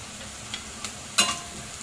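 White bitter gourd thecha is stirred in a pan with turmeric and salt, giving a faint low sizzle with a few scraping clinks of a spoon. The sharpest clink comes near the end.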